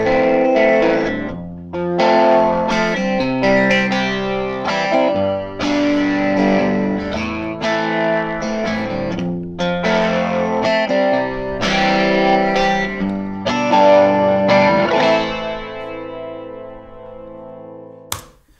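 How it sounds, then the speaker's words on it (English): Electric guitar chords played through an amp with a homemade flanger effect, a swirling, sweeping modulation, loud and continuous before ringing out at the end. "Now, let's see if we can get some flange going."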